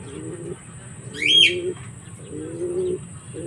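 Racing pigeons coo in low, repeated phrases at close range, three or four bouts in a row, with a brief higher chirp or wing flutter in the middle.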